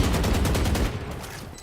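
Gunfire in the video game Valorant during a VCT Ascension Pacific semi-final match, a loud, dense burst of rapid shots for about a second, fading into a lingering tail.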